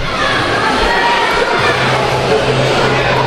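Crowd noise at a high school wrestling match between Butler and Mars, a steady loud roar of voices and shouts filling the gym throughout, with no single voice standing out.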